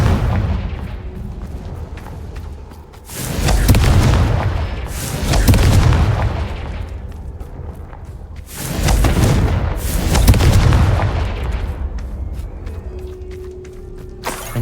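Confringo fire spell blasts in Hogwarts Legacy, two heavy booming explosions several seconds apart, each rolling out into a long rumbling decay with crackling debris, loud and close with no talk over them.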